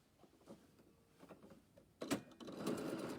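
A sewing machine starts up and runs a short burst of stitching across a fabric seam, loud and close after a quiet stretch of faint handling noises.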